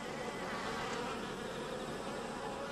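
Hornets swarm with a dense, steady buzzing drone that stays loud and close throughout, with no voices over it. The insects are gathering in a city area.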